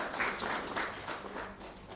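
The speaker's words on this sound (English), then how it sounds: "Can we give ourselves a round of applause?" A conference audience at a child justice event claps together in a brief, moderately distant burst of applause that tapers off toward the end.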